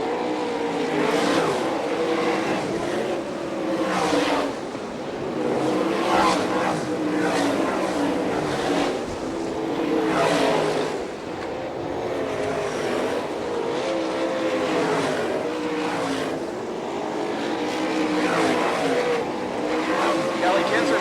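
Sprint race cars at Fremont Speedway in Ohio scream past in waves during an All Star Circuit of Champions race, engines rising and falling as each pack passes close. A commentator talks throughout over the engine roar.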